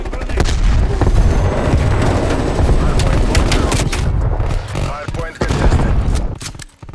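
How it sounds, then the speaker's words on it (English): Video-game combat in Call of Duty Black Ops Cold War Hardpoint: dense, loud bursts of gunfire and booming blasts, including a frag grenade explosion, pound continuously before a brief lull and a final flurry. "Sending frag grenade."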